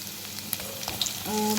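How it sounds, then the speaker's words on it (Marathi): Roughly chopped onion frying in oil over already browned garlic, a close crackling sizzle with light stirring clicks and a brief tonal squeak of the pan near the end, no speech. "मोठा कापलेला कांदा घालून घेऊया. हा कांदा मी लाल होईपर्यंत परतून घेते."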